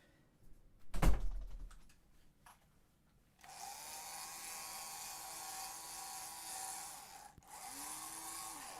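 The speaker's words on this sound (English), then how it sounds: "A little drill action there" A small power drill whines steadily while a PS5 console is taken apart, after a few knocks and clicks of handling. The drill runs loud and close for several seconds, breaks off briefly, then starts again.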